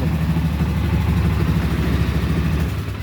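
A 2000 Polaris 500 6x6 ATV engine runs steadily up close, a constant low throbbing idle with a slightly uneven carburetor beat and no pauses, loud and alone throughout.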